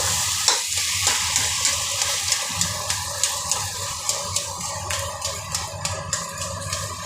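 Spices fry in a pan with dried and green chillies, a steady close sizzle cut by regular clinks and scrapes of stirring at an even rhythm, with no talking.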